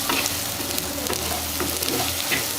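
Masala fried on a low flame in a pan makes a steady close sizzle, with a spatula scraping and stirring through it.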